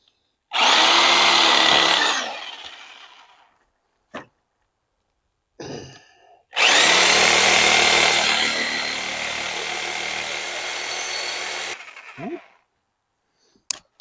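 A corded power drill bores into wood for porch steps in two loud whirring bursts, the second longer and steadier, separated by short knocks and a brief clatter, close and without talk.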